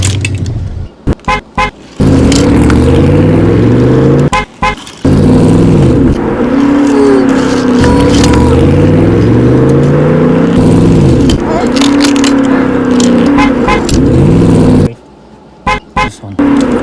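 Engine sound effects from a Hot Wheels Let's Roll It toy car, themed on Gone In 60 Seconds, rev loudly and repeatedly in rising and falling sweeps for about thirteen seconds, framed by brief clicks and knocks at the start and end.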